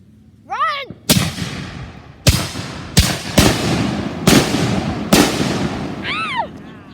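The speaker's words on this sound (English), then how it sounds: "Dodge the fireworks." Several fireworks bang one after another outdoors, sharp loud reports spaced roughly a second apart, with whistling rising launches before and after the blasts.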